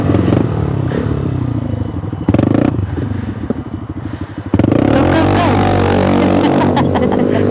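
An imported motorcycle rides along the road, its engine droning loud and close, with a rougher surge midway and a stronger, steady roar in the final seconds, mixed with wind noise and brief voices.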